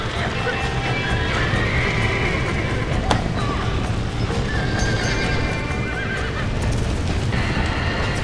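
Horses neighing and whinnying in the Red Dead Redemption video game, layered over hoofbeats and busy game sound, with people talking over it loudly throughout.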